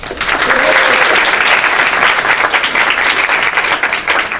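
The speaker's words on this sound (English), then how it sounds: "I started clapping before I could give you her name." Audience applause at a 2017 National Technical Honor Society induction ceremony: dense, steady clapping from a crowd that carries at full strength through the whole stretch, easing only slightly near the end.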